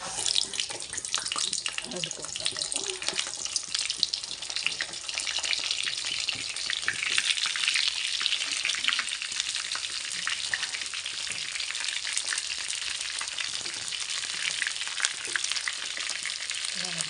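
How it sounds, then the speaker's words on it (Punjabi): Bitter gourds (karela) sizzle steadily in hot oil in a home kitchen while being prepared for stuffed karela, a continuous bright crackling hiss that stays even and close throughout, with no talking. "ਇਹਨੂੰ ਚੰਗੀ ਤਰ੍ਹਾਂ ਫਰਾਈ ਕਰਾਂਗੇ"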